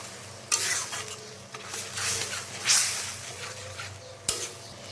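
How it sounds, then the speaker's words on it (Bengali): Spice paste with turmeric powder and salt stir-fried in a pan for an egg and cauliflower curry: a low sizzle under repeated scraping spatula strokes and sharp clinks of the utensil against the pan, close and with no talking. "এবার আমি মশলাটাকে আস্তে আস্তে কষিয়ে নেব"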